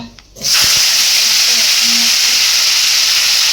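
Panch phoron with garlic and ginger paste hits hot oil in a pan for magur fish curry and bursts into a loud, steady sizzle that holds without a break after a brief quiet start.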